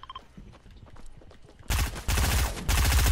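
Gunfire in the Fortnite video game, quiet scattered shots at first, then loud rapid bursts of automatic fire that dominate the second half.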